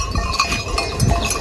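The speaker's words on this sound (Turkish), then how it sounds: "Keçi." A goat bleats briefly on a pasture among farm livestock, its call sitting under a dense, noisy outdoor background.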